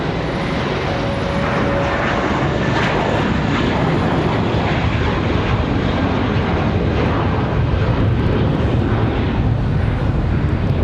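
An airplane taking off from runway 23 left at Raleigh-Durham International Airport on a windy day, a loud, continuous engine roar that fills the whole stretch with no pauses and no voices.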